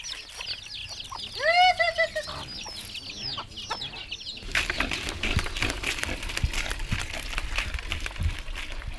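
Chickens cluck and squawk close by in a Lahu hill village in Thailand, answering a feeding call, with a rising burst of calls early on followed by a busy scratching, rustling flurry.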